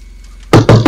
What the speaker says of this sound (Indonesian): seseorang mengetuk pintu kamarnya dari luar. Cepat, keras, seolah ingin segera masuk sekarang juga